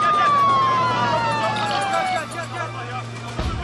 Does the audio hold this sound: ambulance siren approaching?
yes